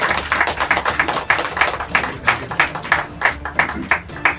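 An indoor audience at a herbal store event claps to welcome two doctors, a small group's rhythmic, fairly close applause with distinct individual claps pulsing steadily, with no talking over it.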